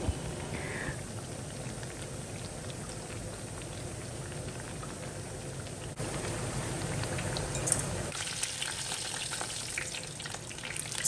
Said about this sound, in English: make sure you add enough oil just so that it fries perfectly, just like this.